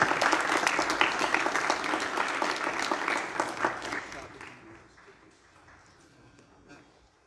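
Applause at a school Heritage Day assembly for students receiving certificates, a lively burst of many hands clapping that stays strong for a few seconds and then fades away as a voice speaks underneath.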